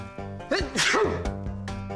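A person lets out a loud sneeze mid-clip, sharp and close, over a steady background hum with low voices around it.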